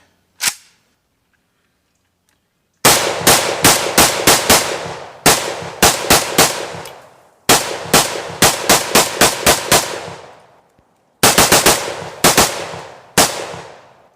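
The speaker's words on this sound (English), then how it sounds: "rapid firing just with my finger did" A Romanian AK M10 rifle fires in loud, close rapid strings of shots at an outdoor range, several bursts of quick trigger pulls separated by short pauses, after one opening single shot.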